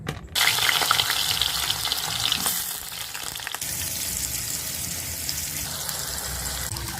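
Eggplant frying in oil sizzles loudly and steadily at close range, with a stirring rush and slight shifts in intensity over several seconds.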